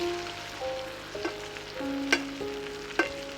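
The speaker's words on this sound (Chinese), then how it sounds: "用勺子把融化的黄油快速反复浇在牛排上" Steak sizzles in a pan while melted butter is spooned quickly and repeatedly over it, a steady close frying hiss broken by a few sharp metallic spoon clinks against the pan.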